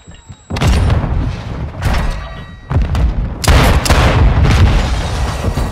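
Semtex grenade blasts and gunfire in Call of Duty Modern Warfare 2 multiplayer, several heavy booming bursts in quick succession, loud and close, with rumbling tails between them.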